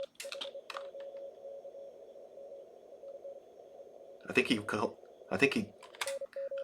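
Faint Morse code tones beep in short on-off bursts through radio noise during the CQ World Wide DX CW 2020 contest, with someone speaking briefly near the end.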